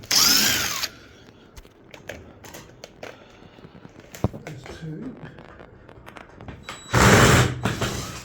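A power drill undoes the screws holding the pocket wire and rail on a slate bed snooker table. There are two loud close bursts of whirring, one at the start and one near the end, with quiet clicks and handling in between.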